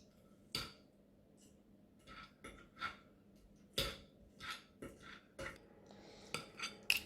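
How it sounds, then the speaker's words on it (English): Scattered metallic scrapes and clicks of forks pulling apart cooked chicken, irregular and close, with a faint low hum underneath. "With 2 forks, now we shred the chicken."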